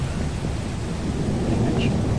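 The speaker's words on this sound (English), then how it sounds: "Maybe he's near all the lightning strikes." Thunder from lightning strikes rumbles in the Lethal Company video game, a loud, continuous low roar mixed with rain-like hiss that fills the whole stretch.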